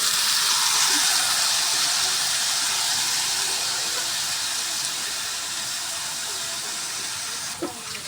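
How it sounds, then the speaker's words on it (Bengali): Sliced kakrol (spiny gourd) and potato pieces dropped into hot oil with reddened fried chillies, giving a steady, loud sizzling hiss that runs unbroken and fades slightly toward the end. "এখন আমি ওদের কাঁকরুল আর আলুটা দিয়ে দিলাম"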